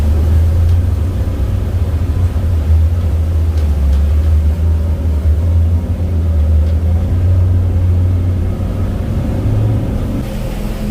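Pursuit boat, a 345 Offshore or 365 Sport Coupe, turning hard under engine power: a steady, loud low engine drone with rumbling water churn throughout, close and continuous with no talk.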